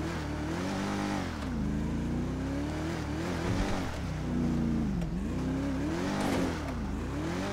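Indian car engine in GTA 5 revving hard while climbing a steep curved road, a continuous loud engine drone rising and falling in pitch as the throttle varies, with no talking.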